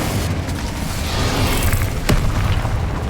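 Fiery spell explosions from Confringo and Incendio casts in the video game Hogwarts Legacy, a dense, loud rumbling burst that runs throughout, with a sharp blast cracking through near the two-second mark.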